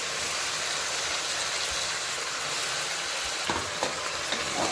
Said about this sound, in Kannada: ಎಲ್ಲ ಸ್ವಲ್ಪ ಹೊತ್ತು ಫ್ರೈ ಮಾಡ್ಕೊತೀನಿ.